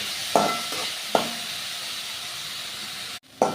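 Chapati noodles cooking in a pan give a steady frying hiss, broken by a few sharp stirring clinks and scrapes, with a brief dropout near the end; close by and with no talk.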